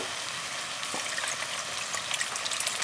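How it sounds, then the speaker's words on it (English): Thirty-two ounces of vegetable broth poured into a soup pot for roasted butternut squash soup, a steady soft hiss of liquid running for a few seconds with no one talking. "And now we need 32 ounces of vegetable broth. So I'm going to go ahead and add this."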